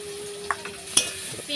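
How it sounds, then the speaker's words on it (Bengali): Chopped onions frying in oil with bay leaves and five-spice, a soft sizzle beneath a few sharp stirring clicks and scrapes, close by. "পেঁয়াজটা লাল লাল করে ভেজে নেব"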